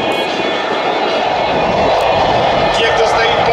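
A MiG-35 fighter jet taxiing on a runway at an air show, its engine a loud, continuous roar and whine, with a commentator talking over it throughout.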